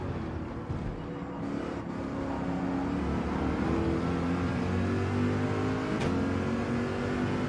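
Subaru race cars in a Gran Turismo 7 race give off a steady, continuous engine drone throughout, with rising tones as the cars accelerate and a brief swell near the end.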